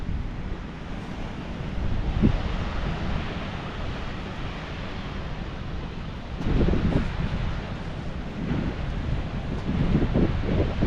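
Atlantic Ocean surf rolls in steadily at Rockaway Beach with strong wind buffeting the microphone, a continuous broad roar that swells slightly as waves break, with no voices.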